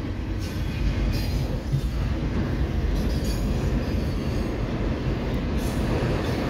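A southbound CSX autorack freight train with a mid-train DPU locomotive rolls past on track two at a Township Ave grade crossing, a loud, continuous rumble of wheels with faint squeals and rattling railcars throughout.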